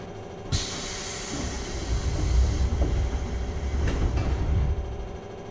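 JR 201 series commuter train departing in the BVE5 train simulator, with a burst of air-brake hiss followed by a low rumbling motor and rolling wheel noise that builds steadily, close and loud.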